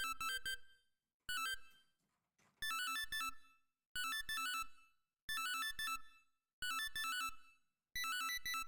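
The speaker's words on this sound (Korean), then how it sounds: "뭔가 약간 이런 컴퓨터 에러난 느낌의 사운드가 있는데, 요것도 세럼 2를 이용해서 만들어줬고" A glitchy, computer-error-style synth made in Serum 2 from a PWM waveform with added effects repeats in seven bright, buzzy bursts of rapid stuttering tones, each about a second long, separated by brief gaps.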